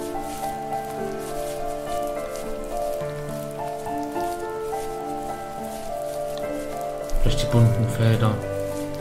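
Steady rain patters across colorful fields in the video game The First Tree, a soft continuous wash running under a calm voice and gentle music.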